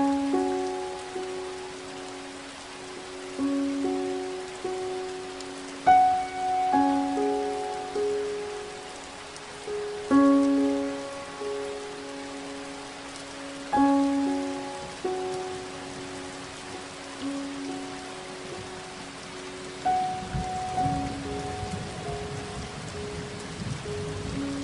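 Steady rain in Anda, Bohol patters on a surface close by, with drips and a few resonant tonal drops ringing over the constant hiss.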